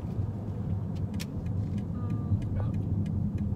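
A 2022 BMW X1 climbs a hill at steady speed, its engine and road noise forming a constant low drone heard from inside the cabin, with faint ticks over it.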